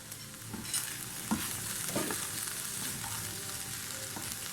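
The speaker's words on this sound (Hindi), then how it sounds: "मैं फ्लेम हाई करूँगी और 2 मिनट तक इसको हाई फ्लेम के ऊपर अच्छी तरह से भून लूँगी" Chicken mince fries on high flame as a filling for Saudi mutabbaq, a continuous close sizzle with soft scraping from occasional stirring.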